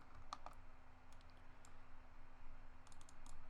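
Keystrokes on a computer keyboard as a node name is typed into 3D rigging software, heard as a few faint, quick clicks in two short bursts over a steady low room hum.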